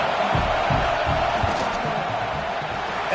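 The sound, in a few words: football stadium crowd noise before field goal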